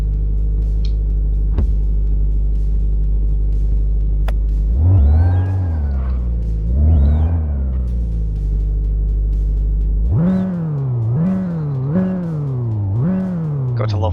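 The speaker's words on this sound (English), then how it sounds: "Got to love those turbo sounds." A car engine in the My Garage video game idles with a steady low drone, then revs in two rising swells and later a run of quick repeated revs, loud and close, with turbo whine riding on top.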